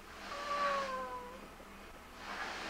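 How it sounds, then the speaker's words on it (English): A brand new kitten meows twice, a clear drawn-out mew near the start and a fainter, shorter one near the end, close by with no talking. "Here's our kitty cat, our brand new kitty cat."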